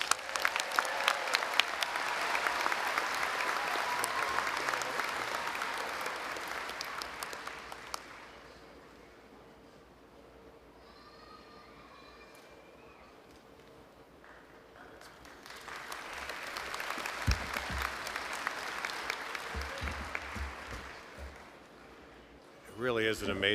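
Loud applause at a university commencement for an honorary degree recipient, swelling over several seconds, fading to a quieter stretch with faint voices, then rising again into a second burst of clapping.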